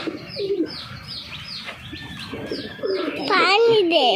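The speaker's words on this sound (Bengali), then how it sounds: "পাখির ক্ষুধা লাগছে, পাখির একটু পানি দেওয়ার দরকার।" Pigeons coo nearby, mixed with quick chirpy calls, and a voice rises over the birds toward the end.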